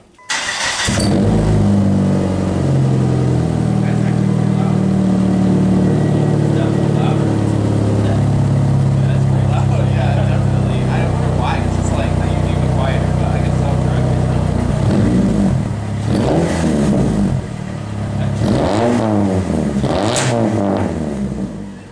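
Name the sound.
straight-piped naturally aspirated PT Cruiser engine revving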